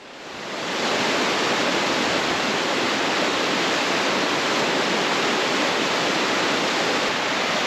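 Hellroaring Creek in Yellowstone rushes fast on a morning, a loud, dense, unbroken roar of whitewater that swells in over the first second and then holds steady.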